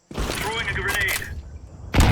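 A grenade thrown in a competitive shooter match on the Ancient map, with a voice talking over game noise, followed by a sudden loud burst at the end.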